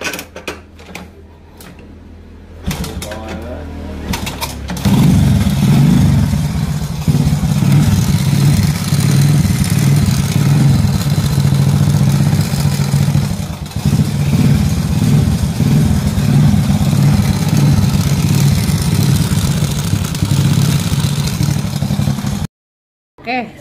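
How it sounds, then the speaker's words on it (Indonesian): A Honda Supra X motorcycle engine with a noisy cam chain idles steadily and loudly at close range for about eighteen seconds, with a continuous mechanical rattle over the engine hum and no talking. "saya kedatangan motor Supra X atau Mochin, dimana rantai ketangnya berisik ya"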